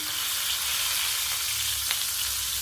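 Stuffed capsicum (shimla mirch) peppers with potato fry in a hot pan, giving a steady, close, loud sizzle that stays even throughout with no voices.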